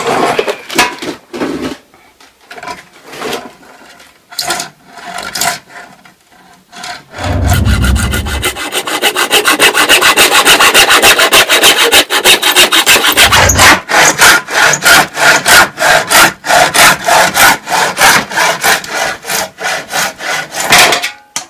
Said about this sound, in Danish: Det kommer til at save lidt skævt.